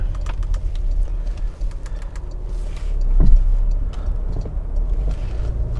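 A Porsche Macan S with a 2.9 V6 petrol engine drives along with a low, smooth engine hum from inside the cabin, joined by faint interior clicks and a small swell around the middle.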